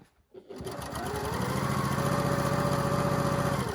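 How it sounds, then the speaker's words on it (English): A sewing machine stitches two quilt fabric pieces together, a steady close mechanical hum and rapid needle chatter that starts after a brief pause and runs evenly to the end. "we're going to take numbers 1 and number 2 and we're going to sew them together"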